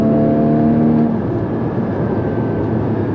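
Porsche Cayman GT4 (981) engine under hard acceleration, a loud sustained roar with a tonal whine in the first second, then a broader engine drone as the throttle stays open.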